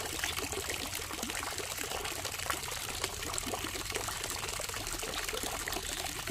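Water splashes and trickles continuously in a fish pond, a steady, fairly faint wash of pouring and dribbling with no distinct breaks and no voices.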